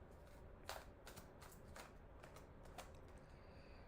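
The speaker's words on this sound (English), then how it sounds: "Y'all see me shuffling, right?" Tarot cards are shuffled by hand, giving a string of crisp riffling snaps spaced about half a second apart, close and clear against quiet room noise.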